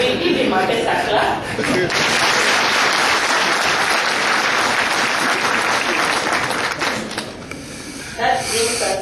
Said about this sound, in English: And now we give him a better clap.